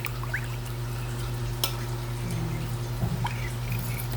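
Tofu and mushrooms in a pan are stirred with a utensil, giving a steady low sizzle with a few soft scraping clicks over a constant background hum.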